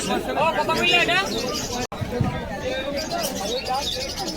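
Pigeons at the Beldanga pigeon market coo and chirp amid a steady crowd hubbub, with brief bird calls rising over constant market chatter and voices.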